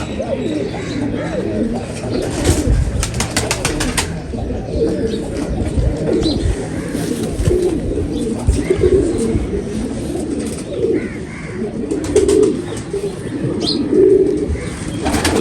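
Pigeons coo steadily throughout, a low rumbling chorus of overlapping calls close by, with a few brief chirps and clatters in the background.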